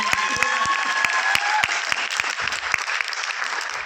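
Audience applause fills a hotel function hall at a business launch event, a dense steady wash of many hands clapping close and loud, with a few sharper individual claps standing out and faint whistles or tones over it.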